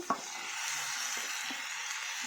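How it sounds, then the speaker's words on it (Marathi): Washed roselle (ambadi) leaves being stir-fried in a pan, with a soft continuous sizzle and a few light scraping stirs, fairly quiet and without any voices. "ही भाजी घालून आपण छानसा असं व्यवस्थित परतून घेणार आहोत"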